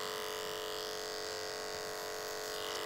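An electric hair clipper hums at a steady, quiet buzz while cutting short textured hair, with no talking over it.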